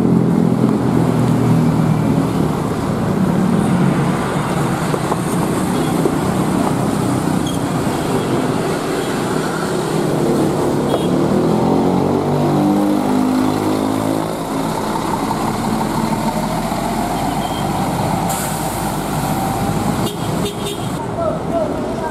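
A Gramas double-decker bus with a Mercedes 2542 engine leaves the Pondok Pinang terminal, its engine rumbling steadily with rising drive tones and horn toots, while someone talks over it throughout.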